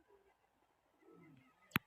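Pigeons give a low, soft coo at a pigeon-flying contest ground, faint and brief, followed by a single sharp click.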